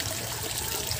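Water trickling from a supply pipe into a tilapia breeding pond, a steady soft splashing stream, fairly close and continuous with no voices.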